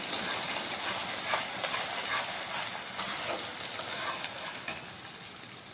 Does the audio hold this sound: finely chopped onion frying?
yes